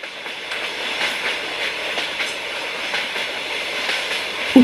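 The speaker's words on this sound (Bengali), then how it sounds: "উত্তরপ্রদেশের বিভিন্ন ছোট ছোট জনপদ দিয়ে ট্রেন ছুটতে থাকল ঝড়ের গতিতে" A train races through small towns in Uttar Pradesh in the rain, heard from inside the carriage as a continuous rushing rumble with faint rhythmic rattling of the car, no voices present.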